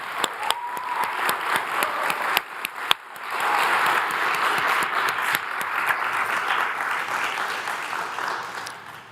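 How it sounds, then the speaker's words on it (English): A crowd on the floor of the New York Stock Exchange breaks into steady applause, with a few sharp claps early on before dense, sustained clapping fills the remaining seconds. "have a round of applause for the team at Martı and Galata"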